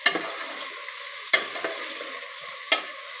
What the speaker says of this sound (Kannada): ಎಲ್ಲನೂ ಕ್ಲೀನಾಗಿ ಮಿಕ್ಸ್ ಮಾಡ್ತಾ ಇದ್ದೀನಿ.